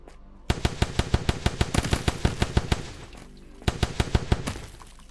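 Rapid automatic gunfire from a weapon in the video game Ley Lines rattles off in two fast bursts of sharp, evenly spaced shots, loud and close, with a short pause between them.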